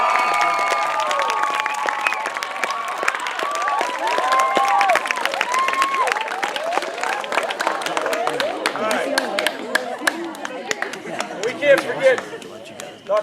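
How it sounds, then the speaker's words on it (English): Crowd at a summer camp campfire gathering, clapping and cheering loudly and steadily, with whoops and shouts rising over the dense applause, lively and close throughout. "Give them the biggest round of applause."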